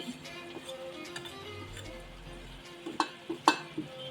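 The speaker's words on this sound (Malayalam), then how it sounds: "നമ്മൾ മുമ്പ് എടുത്ത് വെച്ചിരുന്ന മുളക് പൊടി, മഞ്ഞൾപ്പൊടി, കുരുമുളക് പൊടി," Chili, turmeric and pepper powders fry gently in a pan for a cooker biryani. A soft, faint sizzle runs throughout, and a few quick spoon clicks near the end.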